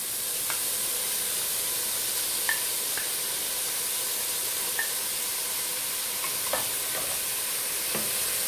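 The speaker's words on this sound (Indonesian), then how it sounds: "Kita aduk ya. Ini aduknya pelan-pelan biar dagingnya tidak" Ground beef fries in a pan with a steady, soft sizzle while a spoon stirs it, giving a few light scrapes and taps against the pan; quiet and continuous, with no talking.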